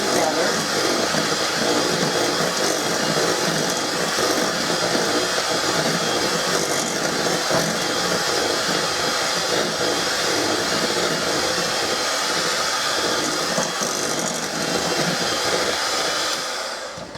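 An electric mixer beats butter cookie batter with a loud, steady whirring drone that runs without a break for about seventeen seconds.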